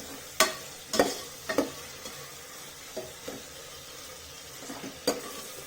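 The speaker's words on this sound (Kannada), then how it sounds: "ಈರುಳ್ಳಿ, ಈರುಳ್ಳಿನ ನೀಟಾಗಿ ಫ್ರೈ ಮಾಡ್ಕೊಳ್ಳಿ." Onions fry for egg biryani in a pan with generous oil, a soft, quiet sizzle broken by several sharp spoon scrapes and clinks as they are stirred.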